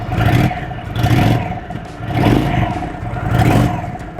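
An air-cooled big twin motorcycle engine idles close by, a loud, lumpy low throb pulsing in slow, uneven beats with a mechanical clatter on top, and no voices.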